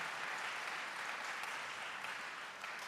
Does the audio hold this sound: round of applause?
yes